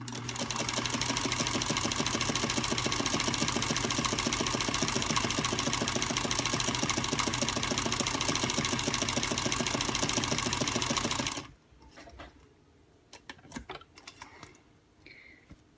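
A sewing machine fitted with a ZigZagger attachment using blue cams stitches a shingle pattern on medium setting, a steady fast mechanical whir with rapid ticking for about eleven seconds, then stops abruptly into quiet handling noises.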